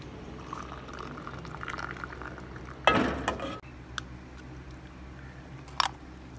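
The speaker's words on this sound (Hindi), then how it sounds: "चाय जो है बन के रेडी हो गई है, अब डालते हैं कप में" Freshly made tea, brewed with onion and tomato, pours into a cup in one brief burst of liquid splashing, close and fairly loud over faint kitchen background, followed by a short sharp clink.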